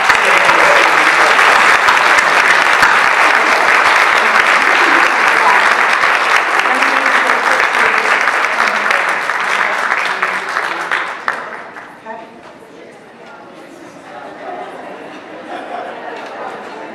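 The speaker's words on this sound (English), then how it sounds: "Let's give a big round of applause for all of our outstanding" Audience applause at a student employee of the year award ceremony: loud, sustained clapping from a crowd for about eleven seconds, then fading into murmured chatter and a voice near the podium.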